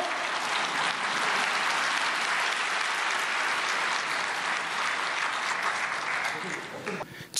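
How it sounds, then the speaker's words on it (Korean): Sustained, dense applause from an audience at a prayer meeting for peaceful reunification, welcoming a professor to the stage; steady and loud for about seven seconds before tapering off at the end. "큰 박수로 맞이해 주시기 바랍니다."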